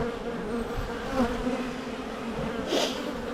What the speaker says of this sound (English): the flying bees that return, that are out foraging at the moment, will come back and think they've swarmed